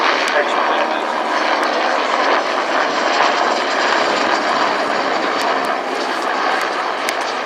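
An AgustaWestland A109E Power helicopter flies at the RAF Cosford airshow, its engine and rotor noise a steady, fairly loud drone. A commentator's voice can be heard over it.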